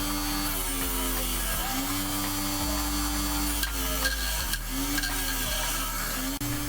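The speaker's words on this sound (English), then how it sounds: "So I rubbed that across the wire wheel." Old screwdriver encrusted with decades of grime pressed against a spinning wire wheel, a steady loud motor whine with harmonic drone throughout and shifting pitch as the tool is pushed in, with brief scraping bursts.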